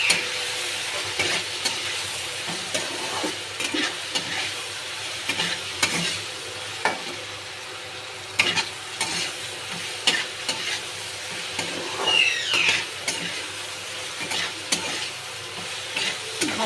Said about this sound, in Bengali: এবার মশলাটাকে ভালো করে কষে নেব